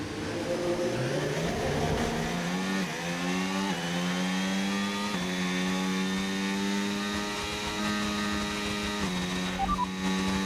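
An F1 car engine in the F1 25 video game accelerating hard, with a high whine that climbs through repeated gear shifts, loud and steady, with no talk over it.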